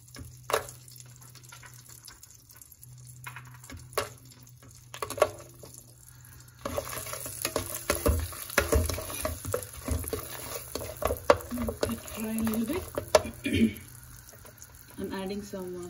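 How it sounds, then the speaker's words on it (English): Cashews are sautéed in a pan for paneer butter masala, with soft sizzling and the scrape and clatter of a spoon stirring, faint at first and then busier. "saute it a bit. And then we'll add some cashews"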